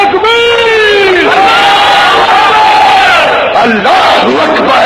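A loud crowd chants the Takbir slogan in unison, long drawn-out shouted voices rising and falling close by over several seconds.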